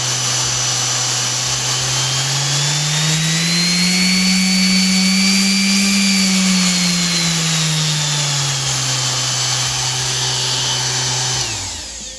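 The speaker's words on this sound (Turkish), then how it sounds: "gördüğünüz gibi zımpara normal haline döndü" A loud Stanley SS30 orbital sander whirs steadily, its pitch rising slightly then easing back before the motor winds down abruptly at the end.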